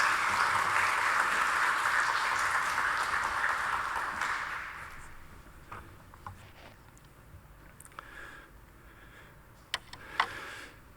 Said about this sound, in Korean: 박수로 환영의 박수를 부탁드리겠습니다